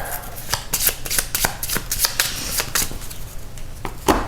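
A deck of board game cards is shuffled by hand at a tabletop, giving quick bursts of crisp riffling and tapping, close and fairly loud, with no talk.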